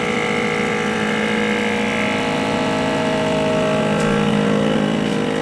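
A steady mechanical drone of a vacuum pump motor on a platemaking unit running continuously, loud and close, with an even hum throughout.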